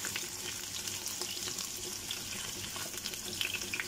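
Chicken liver adobo fries in a pan, a steady soft sizzle and crackle with light stirring scrapes, close and moderately quiet with no talking.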